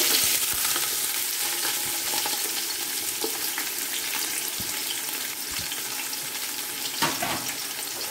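Sliced large onions hiss and crackle in hot oil for mutton biryani, a loud, steady sizzle up close with occasional stirring scrapes.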